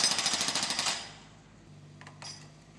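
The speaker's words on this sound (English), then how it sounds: "The breaker scratches, scrapes, and hammers away." A pneumatic breaker hammers up a concrete footpath during roadworks, a loud rapid rattling burst for about a second that then stops, followed by faint clinks and low background hum.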